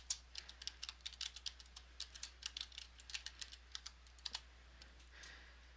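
A password being typed on a computer keyboard, with a steady run of soft, quick key clicks at an uneven rhythm under a low constant hum, fairly faint and with no voices.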